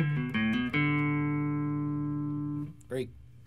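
Electric guitar playing the opening lick of a song, a few quick plucked notes leading into one long sustained ringing chord that fades, followed by a brief bend or slide.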